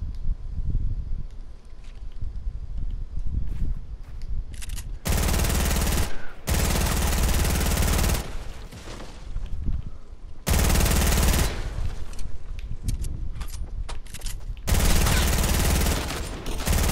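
P90 gunfire in Fortnite rattles out in long, loud, close full-auto bursts, three sustained volleys separated by quieter stretches of footsteps and rustling.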